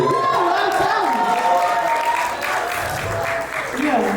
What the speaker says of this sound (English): Give a round of applause for Buffalo.